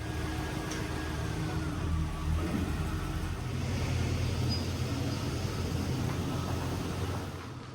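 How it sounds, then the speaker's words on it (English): An old fuel-injected Chevrolet Silverado pickup runs at a steady idle after starting, with a low, continuous engine rumble that swells slightly and eases off near the end. "She starts right up with fuel injection."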